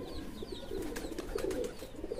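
A racing pigeon settles on a perch and coos in soft, low, throaty phrases, faint and close, with no voices during the calls.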